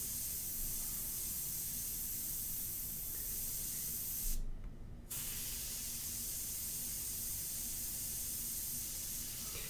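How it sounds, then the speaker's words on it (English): An airbrush spraying India ink gives a steady, soft hiss of air, with a brief gap in the spray near the middle before it resumes. "look at the detail you can get with this airbrush"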